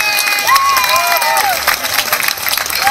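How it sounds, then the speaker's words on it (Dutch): A loud, close carnival crowd cheers and claps for a newly installed town carnival prince and his minister, dense clapping mixed with shouts and whistle-like squeals. "Mag ik nog eens applaus hebben voor de nieuwe garde van onze stadprins Luc ten Eerste en minister Ron."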